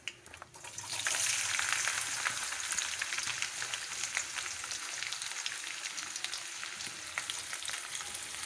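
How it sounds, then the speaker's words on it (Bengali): Chopped onion frying in oil with cumin seeds in a pan, a dense, steady sizzle that starts after a quiet second and keeps crackling evenly, close and moderately loud, with no talking. "পেঁয়াজগুলো ভালো করে তেলে ভেজে নেব"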